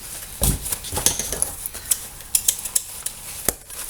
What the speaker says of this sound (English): And you're going to cut the napkin